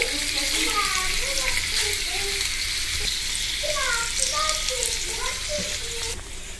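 Potatoes frying in a pan with curry leaves and turmeric sizzle steadily and loudly, with a voice talking over the constant crackle.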